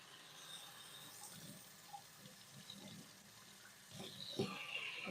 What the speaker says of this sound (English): cold water rinse, cold water